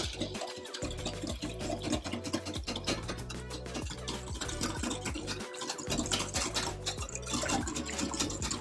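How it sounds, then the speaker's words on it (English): Whisk scraping steadily through instant vanilla pudding mix in a bowl for banana pudding, a fast continuous rhythmic swishing and clicking, close and fairly quiet, with no voices. "we're going to go ahead and whisk that together"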